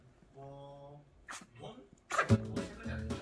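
A sharp, close sneeze bursts out loudly after some brief vocal sounds and a sniff, followed by a short voiced murmur.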